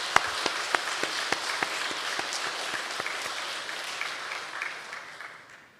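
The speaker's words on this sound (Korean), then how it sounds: "제가 한번 박수 한번 쳐드리겠습니다" A church congregation claps together during a Sunday worship service, a dense, steady round of applause with crisp individual claps, slowly fading toward the end.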